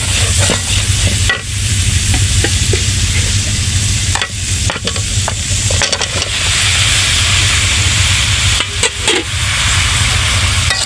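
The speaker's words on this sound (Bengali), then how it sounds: "এখন একটু তরকারি রান্না করতেছি" Curry frying in a pan on a home stove, with a loud steady sizzle and hiss close by, broken by scraping and clinking from a spoon as it is stirred.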